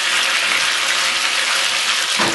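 Potatoes frying in a hot pan, a dense, loud, steady hiss and spitting sizzle filling the whole short stretch with no pause.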